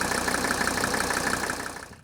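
A 1983 Mercedes diesel engine, a used replacement fitted to a wagon, idles loudly up close with a steady clattering knock that fades away near the end.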